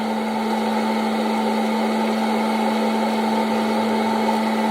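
A hot air popcorn popper running with no oil, making a loud, steady electric whir with a constant hum that holds without change.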